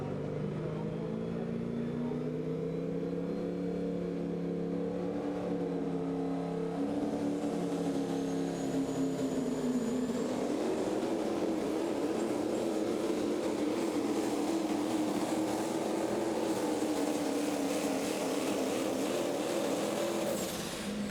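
A Pro Stock diesel pickup truck, Cummins or Duramax powered, roaring continuously during a truck pull at Terre Haute, Indiana, its engine note droning and wavering in pitch as it strains down the track, loud and sustained throughout.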